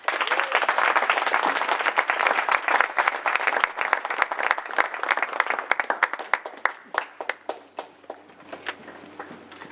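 An audience gives a long, loud round of applause after students' tribute speeches, with dense clapping that thins out toward the end into scattered individual claps.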